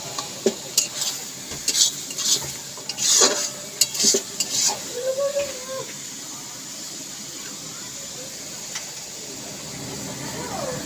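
Prawn head masala stir-fried in a pan, with a spatula scraping and clinking in irregular bursts over a low sizzle during the first half, then a steady quiet hiss; a voice is briefly heard.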